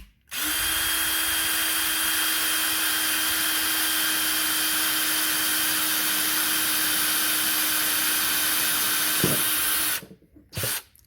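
A power drill bit bores a hole for a homemade DIY air filter, a steady loud whine for about ten seconds that cuts off abruptly, followed by a couple of brief clunks.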